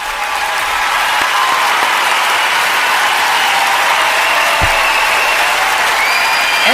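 An audience gives loud, sustained, dense applause that stays steady and even from start to finish, with faint cheering under the clapping.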